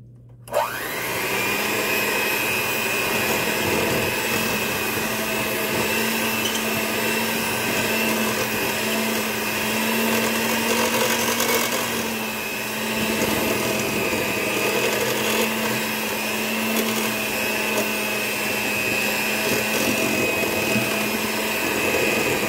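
An electric mixer whirring through banana cake batter, a loud, steady motor drone that starts abruptly and holds almost unchanged throughout.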